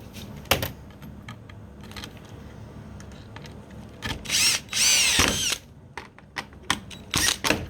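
Power drill driving screws into a deer mount near the antlers, several short whirring bursts with clicks and handling noise between them, the longest near the end, close and moderately loud.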